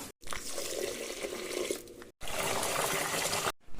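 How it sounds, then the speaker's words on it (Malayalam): Tap water runs steadily into a vessel as rice is set to soak for biryani, a full, close rushing stream broken by two brief pauses. "നമുക്ക് ആവശ്യമുള്ള അരി ഒന്ന് നമുക്ക് വെള്ളത്തിലിടാം"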